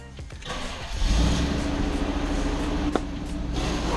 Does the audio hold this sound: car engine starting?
yes